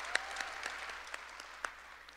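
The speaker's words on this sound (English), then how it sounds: "Yes, we can clap for that." Sparse, faint scattered claps from an audience at a university panel discussion, a handful of isolated hand claps spread across a quiet room rather than a full ovation.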